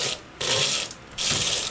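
Wood lathe spinning a dry mango wood bowl, pitch climbing as it speeds up toward 1200 rpm, with bursts of tool cutting and hissing scraping coming in two loud passes separated by a quieter whir.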